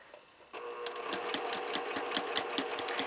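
A sewing machine running a slow straight stitch for quilting: a steady, quiet mechanical whir with a regular ticking needle rhythm, close up, with no talking.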